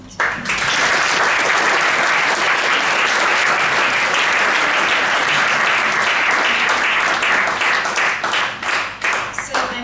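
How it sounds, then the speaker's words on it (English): An audience at a FameLab science competition semi-final in Basel claps loudly and steadily for a contestant, a thick wash of applause that thins out and tapers off in the last seconds. "Here is your second applause"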